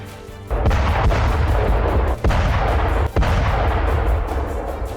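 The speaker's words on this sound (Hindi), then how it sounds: "एक बार फिर से रिहायशी इलाकों को निशाना बनाकर बमबारी की जा रही है।" Artillery bombardment of residential areas in Donetsk during the Russia-Ukraine war: a loud, continuous roar of heavy fire with several sharp blasts punctuating the rumble, no talking.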